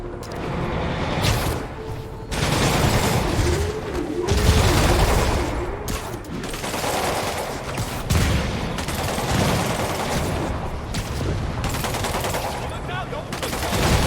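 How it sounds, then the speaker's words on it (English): Sustained automatic gunfire in the Spider-Man Remastered video game, dense loud volleys and booming impacts running almost continuously, with voices speaking briefly over the shooting. "We're taking fire"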